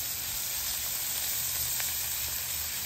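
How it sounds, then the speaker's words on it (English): Jalapenos sautéing in bacon grease on a flat-top griddle give off a steady, close hiss of sizzle. It holds level throughout with no pauses and no voices. "Put those jalapenos in that bacon grease, start sauteing those."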